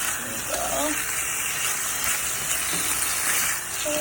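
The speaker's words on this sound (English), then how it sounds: "stir this and cook it until it's nice and brown and cooked through" Chicken dusted with garlic powder cooking in a pan, a dense, steady hiss of sizzling fat throughout, with a voice speaking faintly over it.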